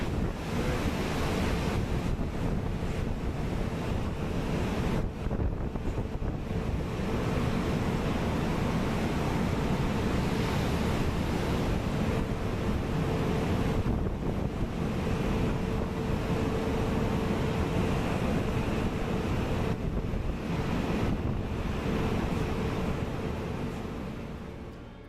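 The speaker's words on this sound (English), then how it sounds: "your oil rig happens to be in the North Sea, which regularly sees waves like this" Massive North Sea waves pummel an oil rig, a steady, loud roar of surf and wind buffeting the microphone that swells and dips over about 25 seconds, with no voices.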